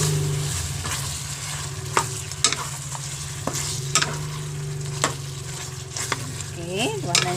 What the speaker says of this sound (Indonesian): Digoreng sampai dia kering-kering, baru nanti kita angkat.